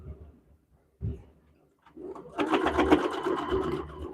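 Sewing machine stitching together four quilting fabric squares for a little love quilt block, starting after a couple of soft thumps and running steadily through the second half, close and fairly quiet.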